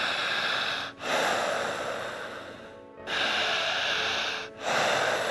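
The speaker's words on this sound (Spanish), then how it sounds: "Fuerte su respiración." Heavy, loud breathing up close from a person under hypnosis: long noisy breaths in and out, separated by brief pauses, repeating in a slow steady rhythm.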